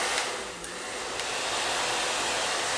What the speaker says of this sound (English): I'm just going to give it a really quick blow dry.